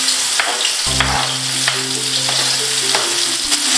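Onions frying in hot ghee for an achari samosa filling, a steady loud sizzle with occasional stirring scrapes and clinks, heard alone with no talk.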